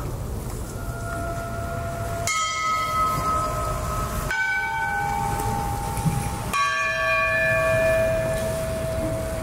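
Church bells toll on Holodomor remembrance day, three separate resonant strikes spaced about two seconds apart, each ringing on with long, shimmering overtones above a low background rumble.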